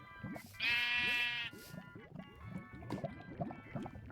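A single drawn-out sheep bleat from Minecraft rings out early, followed by a busy patter of small clicking and tapping sounds.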